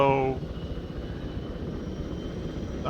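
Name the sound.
helicopters spooling up in Arma 3, a video game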